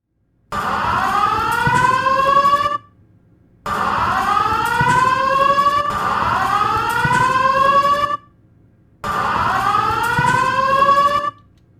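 A high-rise building fire alarm wails in loud, rising-and-falling siren sweeps, repeating in long bursts separated by short silences.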